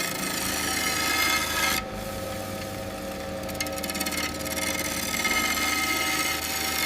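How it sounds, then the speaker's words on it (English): Lathe blade cutting across the bronze surface of a hammered cymbal, a steady dense metallic hiss and scrape that runs continuously, shifting briefly in texture partway through, close and fairly loud with no talk. "The lathing blade doesn't just clean the metal, it cuts microscopic tonal grooves into the surface"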